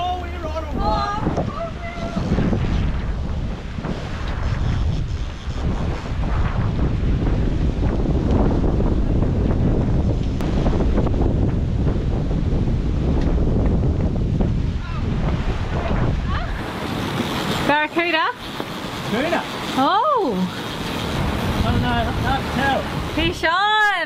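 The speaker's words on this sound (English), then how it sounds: "we've got the wind today" Strong wind roars across the microphone aboard a sailboat out on the Indian Ocean, with the rush of waves and water around the hull, loud and continuous throughout, with some voices and whistling tones near the end.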